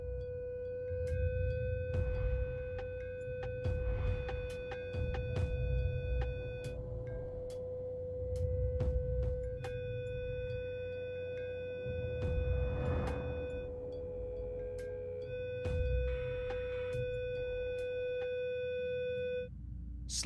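Guitar tuned to the resonant pitch of a drinking glass sounds one sustained steady note that rings almost continuously, with soft rumbling background noise and some brief interruptions.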